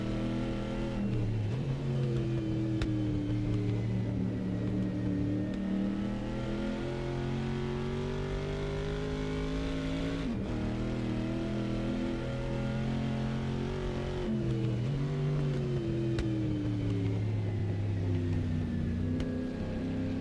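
A Shelby car engine in a racing video game roars steadily, its pitch climbing and dropping through repeated gear shifts, like a race car lapping at speed.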